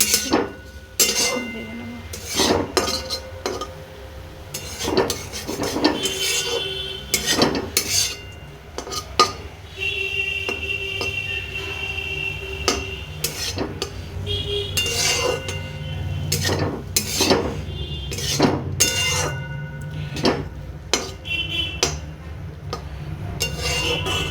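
Water spinach (kalmi shak) being stirred in a pan, a utensil scraping and clinking against the metal in irregular bursts over a low steady background, with a little speech at times.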